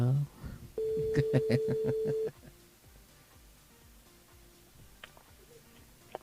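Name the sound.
telephone dialing and ringing during radio call-in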